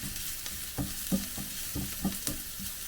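Kangkong (water spinach) sautéing in a pan in a home kitchen, with a steady soft sizzle and regular stirring scrapes about every half second, close and moderately quiet.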